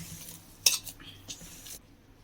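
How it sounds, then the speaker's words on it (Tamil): A ladle scrapes and stirs thick rice flour dough for akki roti in a pot, making a few close, soft scraping strokes with one sharp metallic clink, fairly quiet. "கை போட்டு பிசையாதீங்க, கரண்டியில பிசைஞ்சுக்கோங்க"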